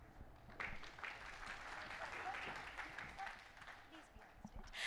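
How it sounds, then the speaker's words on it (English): An audience at a corporate procurement event applauding, a sustained wash of clapping from a crowd that holds steady for several seconds. "Everyone, let's give a huge round of applause"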